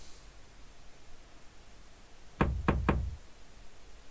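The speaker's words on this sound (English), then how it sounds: "Carey, there is no answer to your knocking." Three quick, evenly spaced knocks on a door ring out in the video game Police Quest: Open Season, sharp and close against a quiet, faintly hissing background.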